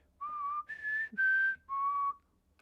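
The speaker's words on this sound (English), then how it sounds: "If you hear a whistle, you're dead." A whistle in the Roblox video game sounds four times in quick succession, each a clear sustained tone with slight pitch changes between notes, loud and alone against quiet background.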